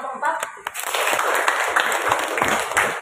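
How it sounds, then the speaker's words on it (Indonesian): Students in a classroom clap for a presenting group, a burst of close, dense hand claps that stays loud for about three seconds. "Tepuk tangan untuk kelompok 4."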